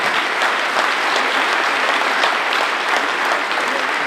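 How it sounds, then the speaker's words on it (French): Dense, steady applause from an audience at a business award ceremony for an environmental innovation prize, with many hands clapping continuously and evenly for about four seconds, loud and close, with no speech over it. "mesdames, messieurs, merci d'applaudir Grégoire Dupré"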